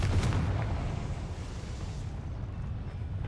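The Confringo blasting spell exploding in the Hogwarts Legacy video game, a loud, rumbling blast whose boom decays into a sustained roar over a few seconds, with no talk over it.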